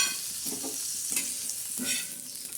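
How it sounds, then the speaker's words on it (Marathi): Green chillies roasting on a tawa griddle, a soft continuous sizzle with a few scraping stirs, close but fairly quiet, no voices. "हे मिरच्या अशा तव्यावर भाजून घेणार आहोत"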